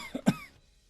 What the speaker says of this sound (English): The Turlock devolved into a coughing fit.